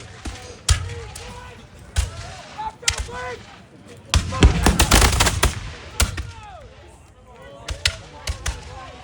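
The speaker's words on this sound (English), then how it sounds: "that's a pretty intimidating amount of gunfire" Musket volleys crack in scattered, overlapping bursts at a battle reenactment of the final assault at Bunker Hill, with a dense cluster of shots in the middle, some near and others distant, while voices talk underneath.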